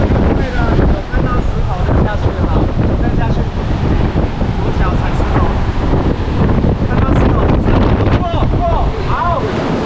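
Ocean waves surge against the rocky shore along a coastal trail in Taiwan, a continuous loud roar of surf mixed with heavy wind buffeting the microphone, with faint voices underneath.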